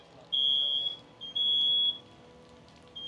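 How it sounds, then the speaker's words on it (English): A smoke alarm sounds with two long, high-pitched beeps and the start of a third, moderately distant and faint against a quiet room, during a fire sprinkler demonstration with a fire burning in a basket. "You can hear the smoke detector on this side going off now."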